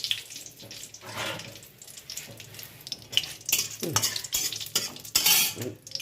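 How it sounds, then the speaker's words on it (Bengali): Cabbage and potato pieces frying in oil with bay leaf while a utensil scrapes and stirs them in the pan; an uneven crackle with repeated louder scraping bursts, close by and with no talk. "বাঁধাকপি আলুগুলো ভেজে নিলাম"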